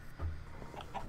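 A chicken in the Minecraft video game gives a few short clucks, brief and fairly clear with no talking.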